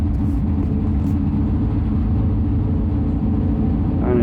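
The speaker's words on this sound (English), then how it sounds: "you can see when the car takes off" A 347 cubic inch Mazda 929 drag car launches from the line at a drag strip, a loud, steady, rumbling engine roar heard from nearby that holds strong throughout, with no talking.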